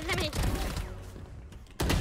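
Rapid gunfire bursts in the tactical shooter Valorant, loud and close at the start and again at the end, with a quieter gap between and players talking over the shots.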